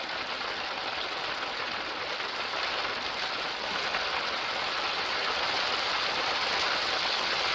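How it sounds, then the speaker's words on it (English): Steady rain hisses with a broad wash of noise in a storm, heard from a vehicle, and a low wind rumble runs beneath it the whole time; no one speaks. "It's a damn shame it's raining and windy."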